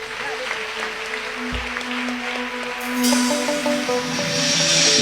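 Church congregation applauding and cheering the Holy Spirit during a worship service, a steady wash of clapping and voices that swells louder toward the end, with sustained tones underneath.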